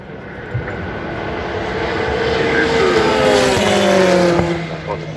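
An Oreca race car numbered 22 coasts at low speed down the Dunlop descent during 24 Hours of Le Mans 2023 practice, its engine note rising and sliding in pitch as it passes near, with steady track ambience and no talk.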